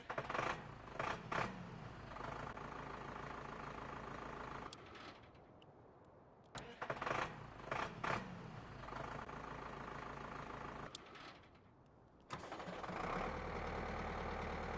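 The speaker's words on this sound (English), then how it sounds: "So different engine sounds on both vehicles there, as you can hear." Farming Simulator 19 vehicles idle and rev with loud diesel engine drones, cut off twice by brief quieter gaps where the sound drops away, then resuming with a steadier, deeper engine rumble.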